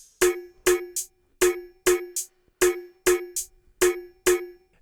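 Drum samples from a moombahton remix, closed hi-hat, open hi-hat and soft snare, playing together as a loud, dry, steady groove of eight crisp hits with airy open-hat tails, no voices.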